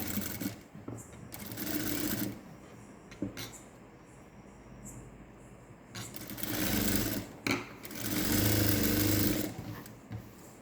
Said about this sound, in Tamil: இப்போது நம்ம இந்த நெக்லைனை தைச்சாச்சு